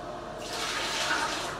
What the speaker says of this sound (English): Then put some water on it.